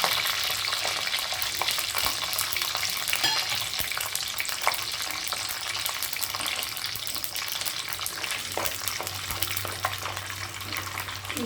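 Peanuts frying in hot oil for an Indian poha upma, with a steady bright sizzle and crackle running continuously and fairly close, alone without voices.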